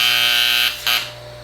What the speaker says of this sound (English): what the alarm does is tell you when the air pressure drops